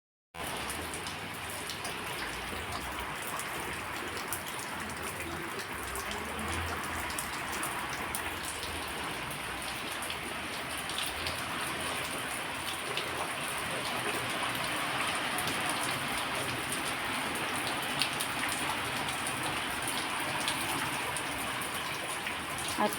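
Heavy nighttime rain pouring steadily near a home by a pond, a continuous dense hiss of drops on surfaces at moderate level for the whole stretch, with no talking.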